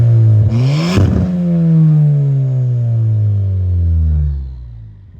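A car fitted with a cheap eBay exhaust and a catless downpipe revs up sharply, then holds a loud, droning exhaust note that slowly falls away and fades out over a few seconds.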